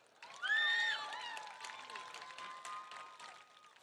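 A crowd at a high school football homecoming claps and cheers, loud at first and then settling into steady applause with scattered whoops and whistles.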